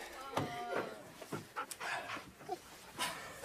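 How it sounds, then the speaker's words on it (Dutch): A small mixed-breed dog pants in quick, uneven bursts of breath, close by and fairly soft, with a few faint vocal sounds mixed in. "Dit is Harley, mijn hond"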